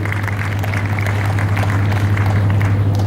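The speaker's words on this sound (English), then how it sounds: "Another round of applause." Audience applause at the Ladies Fund LEC 2013 event, a continuous wash of clapping over a steady low hum.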